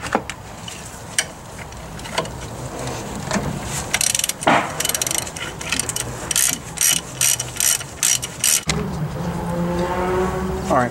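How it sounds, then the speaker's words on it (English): Ratchet wrench clicking as the tie rod end nut is loosened on a Foxbody Mustang front suspension, bursts of rapid metallic ratcheting close to the microphone with short pauses between, plus a few light clanks. "I'm gonna go ahead and disconnect the tie rod end"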